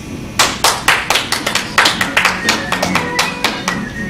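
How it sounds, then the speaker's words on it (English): Conference audience clapping: a loud round of applause built from distinct, near hand claps with uneven, loose rhythm, steady for several seconds without any talking over it. "Please give us a round of applause if you think Jay is pregnant"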